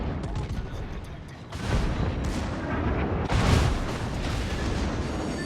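Torpedoes slam into a ship in World of Warships, a couple of heavy booming impacts over dense, continuous battle noise and gunfire rumble, loud and close.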